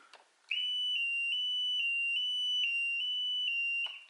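Alarm sounder on a lift control panel running on 12 volts, a steady high electronic beep tone held for about three seconds, clear and close, starting and stopping abruptly.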